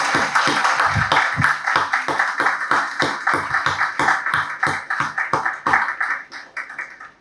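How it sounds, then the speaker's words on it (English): A modest audience at a Sikh Vaisakhi community event gives a round of applause for guests, a small group's uneven claps, distinct and fairly close, tapering off toward the end. "I just want to ask everyone to sort of join me in a round of applause for our guests"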